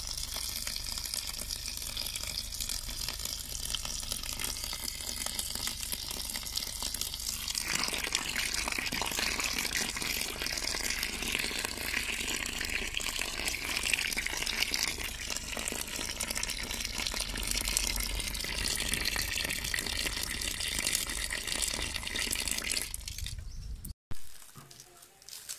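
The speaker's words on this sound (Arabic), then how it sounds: "نغسلوه النعناع نتاعنا عدة مرات حتى يتنحى التراب منه" Tap water runs in a steady, continuous gush over fresh mint leaves being rinsed several times to wash off dirt, close by with no talking.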